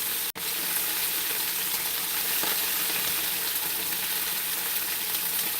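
Kale and bacon sizzle steadily in a hot pan while being stirred, a loud continuous frying hiss with a brief utensil knock near the start and no talking over it.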